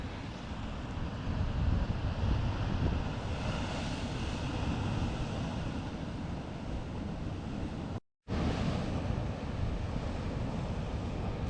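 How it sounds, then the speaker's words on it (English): Heavy waves roar along the wild east coast of Scotland in a constant low rumble, with gusty wind buffeting the microphone and a brief dropout near the end. "The roar from these waves is crazy"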